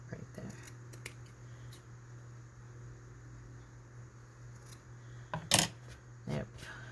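Scissors trim junk journal paper with a few faint snips, followed by one louder, sharper cut near the end over a low steady hum, close but quiet.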